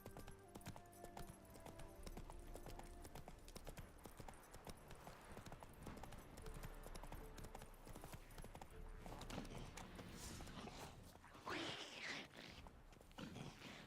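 Roach, Geralt's horse in The Witcher 3, walks with soft, quick, close hoof clip-clops over a quiet game backdrop, ending in a short snort or whinny.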